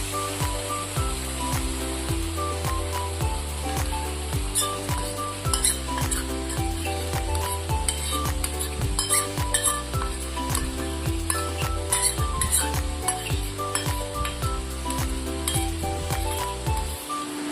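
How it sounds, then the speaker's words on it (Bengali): A paste of mustard, poppy seed and green chilli is stirred into a frying gravy, with steady sizzling and rhythmic spatula scraping and clinking against the pan, close and continuous over a faint musical background. "এবার আমি এতে দিয়ে দেবো এই সর্ষে পোস্ত কাঁচা লঙ্কা দিয়ে বাটা মিশ্রণটা"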